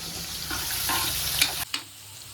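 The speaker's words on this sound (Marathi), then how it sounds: "कांदा कढीपत्ता पण खूप घेतो ब्राऊन तांबूस होईपर्यंत" Sliced onions and curry leaves frying in oil until browned, a close, continuous sizzle with stirring scrapes, ending in a couple of sharp utensil knocks.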